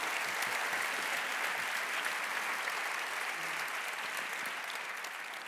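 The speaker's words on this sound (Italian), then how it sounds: "Fate un applauso a Riccardo, accoglietelo" Sustained audience applause on an Italian entertainment stage show, dense and steady from a large crowd, continuing unbroken for several seconds with no talk over it.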